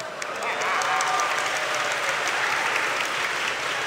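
Applause from an audience at a santri cultural evening performance, a steady dense clapping wash at fairly close range, with a faint tone and murmured voices mixed underneath.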